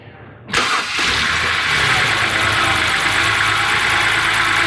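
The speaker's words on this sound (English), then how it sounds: "now the only thing left to do is to see if the car is gonna crank and start" A 2007 BMW with a newly replaced starter cranks briefly and fires up, then settles into a loud, steady close-up idle.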